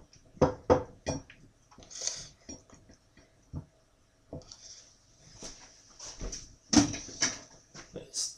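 Food is scraped and set down onto a plate in a home kitchen, with clattering dishes and cutlery and intermittent knocks and taps, while a person talks throughout.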